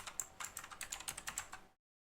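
Quick run of keystrokes on a computer keyboard while logging into a Debian Linux virtual machine, about a dozen light, close clicks in a steady patter, quiet and alone.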